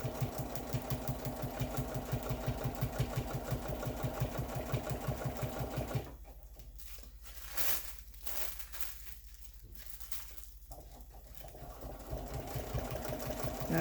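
A domestic sewing machine running steadily while quilting fabric, a fast even mechanical hum and needle rhythm that drops away midway into quieter handling sounds before the motor starts up again.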